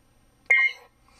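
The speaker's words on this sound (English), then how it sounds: "it goes into a series of beeps." A Proffie lightsaber sound board gives a single short electronic beep as it enters its menu, clear and close with quiet surroundings.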